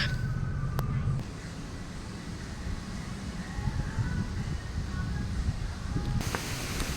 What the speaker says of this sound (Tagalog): Naririnig nyo yung ingay ng hangin.